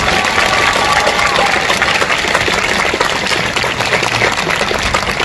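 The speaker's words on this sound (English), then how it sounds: "we're going to give you a big round of applause" Loud, steady applause from a school concert audience honoring Mr. Thomas, the assistant principal, a dense continuous wash of clapping filling the hall without pause.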